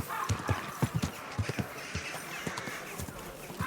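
Rhythmic clip-clop of horse hooves at a walking pace in the video game Kingdom Come: Deliverance 2, steady and fairly close, with faint background ambience.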